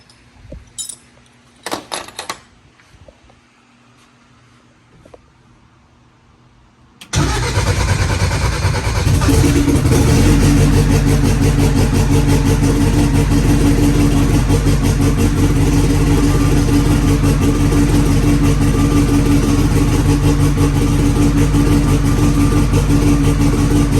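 A car engine, just repaired and already cranked to confirm oil pressure, catches and starts after a few faint clicks and rattles, then settles into a loud, steady close-up idle for the rest of the clip.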